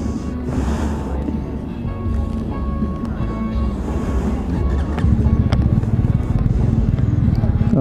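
A Honda CB125R 125cc motorcycle engine buzzes steadily while riding, with wind noise over the mic and a rougher, louder throb in the final seconds.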